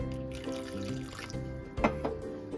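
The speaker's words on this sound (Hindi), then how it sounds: "तो हमें आधा कप और पानी डालना है।" Water pours into thick gulgule batter in a short trickling stream, closer and louder near the end, with faint background tones and no talk.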